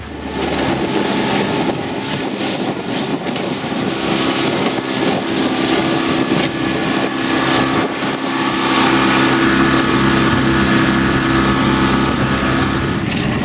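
A small fishing boat with an outboard motor cruising on open water near Fort DeSoto, a loud steady engine drone mixed with wind buffeting the microphone throughout.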